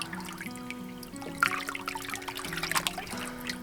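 Very hot water runs from an outdoor tap on the California coast, a steady close trickle and splash with brief louder gushes over a low humming background.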